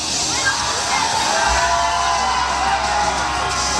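A large crowd at a diesel truck nationals event cheers and screams in a loud, continuous roar, with whoops and shouts blending into the wash of noise.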